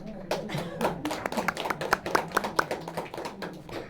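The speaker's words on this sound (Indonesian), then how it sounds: "Ya, aplaus." Audience applause at a graduation ceremony for women students of a basic Islamic studies course, a dense burst of clapping from many hands under a speaker's voice.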